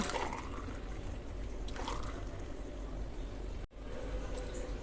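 Blended orange milkshake is poured out to serve, a steady close liquid rush with a brief break near the end.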